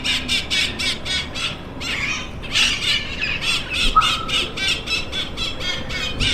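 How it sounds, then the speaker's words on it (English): Parakeet-type birds screech in a loud, dense chorus near a hotel in Trujillo, Peru at dawn, with rapid repeated squawks and squeals overlapping continuously and no talking. "there's just this cacophony of screeching from these parakeet type birds"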